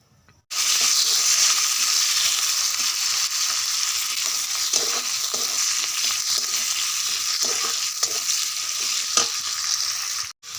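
Potato curry sizzles loudly and steadily in hot oil in a pan, a continuous crackling hiss with occasional stirring clatter, and no talking.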